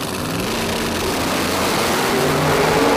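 A race car engine roars steadily near the track as the driver holds the throttle, its pitch climbing slightly toward the end under a continuous broadband rush.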